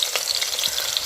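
Whole spices fry in hot ghee for ghee rice, giving a close, busy sizzle with fine crackles and pops running continuously through a short moment, no voices.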